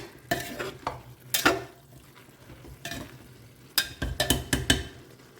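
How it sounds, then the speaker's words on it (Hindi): Chopped tomatoes stirred in a frying pan for veg pulao: a spoon scrapes and clatters against the pan in uneven bursts over a soft sizzle, close, with a thick cluster of strokes near the end. "अच्छे से इसे मिक्स करें और इसे ना अभी 1 मिनट के लिए हमें लगातार मिक्स करते रहना है"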